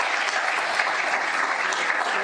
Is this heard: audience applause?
yes